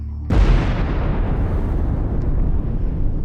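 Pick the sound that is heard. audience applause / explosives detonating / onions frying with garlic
explosives detonating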